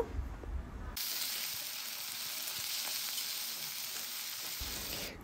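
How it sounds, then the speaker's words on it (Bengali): Onion paste with garlic and ginger paste frying in a pan for Bengali mutton kosha, a loud steady sizzle that sets in abruptly after a brief moment and holds near and continuous. "তো এখন দেখো দিয়ে দিচ্ছি পেঁয়াজ বাটা। তো এখন ভালো করে কষিয়ে নেব।"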